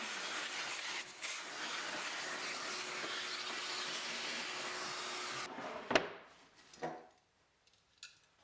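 A Hoover vacuum cleaner running in a workshop, doubling as dust extraction for a CNC router, a steady loud whine with a faint tone that cuts off abruptly, followed by a few clunks and knocks.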